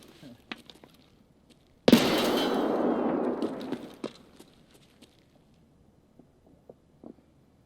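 A sudden loud blast from the video game Escape From Tarkov that rumbles and crackles for about two seconds, then fades, surrounded by faint scattered clicks and thumps.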